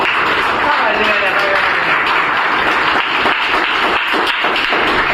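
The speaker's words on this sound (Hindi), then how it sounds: "नीरोज भाई के लिए एक बार ताली हो जाए" A group gives a steady round of applause for a welder during a welding training session, with dense clapping that grows into sharper individual claps near the end.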